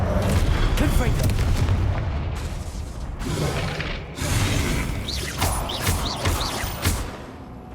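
Booming Confringo spell explosions from the Hogwarts Legacy video game crash and thud through a chaotic battle, loud and layered with mechanical clatter, impacts recurring over several seconds while a voice is heard.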